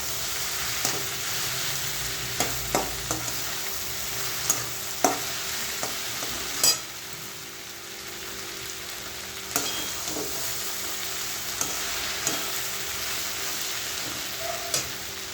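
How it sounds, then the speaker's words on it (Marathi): Okra fries and sizzles in an open pan without a lid, a continuous hiss with scattered spatula scrapes and clinks as it is stirred now and then. "मी बिना झाकणीची भेंडी आता ही छान फ्राय करून घेतली"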